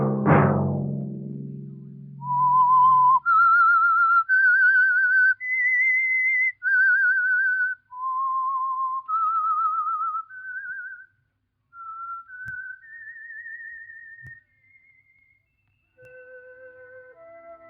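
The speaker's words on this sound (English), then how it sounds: "Let that whistle be your signal for the Signal Oil program, The Whistler" Whistled theme tune from The Whistler 1948 radio drama: a solo melodic whistle of about a dozen sustained notes rising and falling in a slow, eerie phrase, clear and close, following a brief low rumble at the start.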